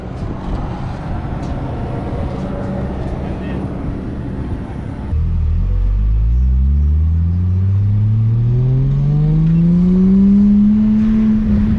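A modified Ford Falcon F6 Typhoon with a turbocharged Barra straight-six, first idling and rumbling, then pulling away as the engine note climbs smoothly and steadily through the revs, loud and close.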